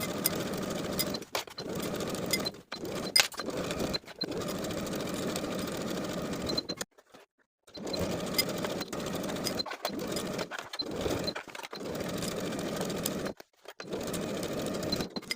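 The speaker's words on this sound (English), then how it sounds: "Then we can sew the armhole facings in place from one top edge across the seam to the opposite top" A sewing machine stitches armhole facings onto fabric overalls, running in steady whirring bursts broken by short pauses, close and fairly loud with no talking.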